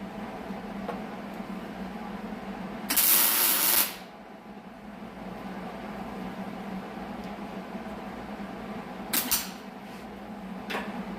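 Tack welding close to a car's gas tank: a loud crackling hiss lasts about a second, and a shorter double burst follows later, over a steady low hum with no talking.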